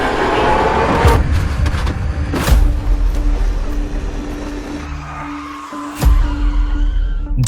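A Formula 1 car crashing at the 2025 Brazil race, Gabriel Bortoleto's incident: loud engine roar with screeching tires and skidding, heavy impact thumps and debris noise, then a renewed surge of engine sound, with no talking.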